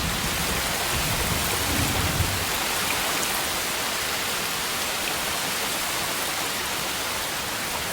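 A heavy rain downpour pours over a northern Australian river, a dense, continuous hiss of rainfall with a faint low rumble early on and no voices.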